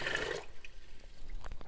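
Hot water pours briefly from a coffee machine while coffee is being dialed in, a soft splashing trickle that fades after a moment into quiet background with faint drips, no talking.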